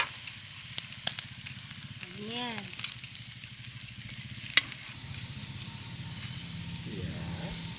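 Food boils and bubbles steadily in a pot at a campsite, with occasional clinks of utensils and a voice speaking briefly nearby.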